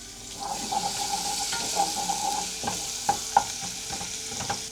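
Ginger hits hot oil already browning with garlic, making a steady, close sizzle with a few sharp clinks and stirring scrapes over the constant frying hiss.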